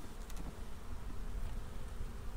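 Honeybees buzz steadily during summer honey extraction, a faint, continuous drone of many insects with no voices.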